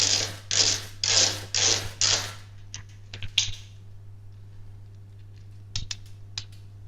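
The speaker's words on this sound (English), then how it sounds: "is put the last 4 screws in that we took out right at the start" Screws are driven back into the side panels of a computer case with a screwdriver, giving a run of rhythmic creaking ratchet turns, followed by sparse clicks and taps nearby.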